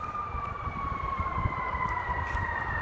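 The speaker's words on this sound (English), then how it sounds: "They got the police going somewhere now." Police car siren wailing in a steady, sustained tone at moderate distance over low traffic and street rumble, with no voices.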